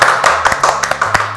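A short burst of hand clapping, sharp irregular claps from a small group or a few people, loud and close, with no talking over it.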